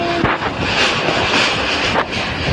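Strong typhoon wind at night roaring and buffeting against the microphone, a continuous loud rush with gusty swells.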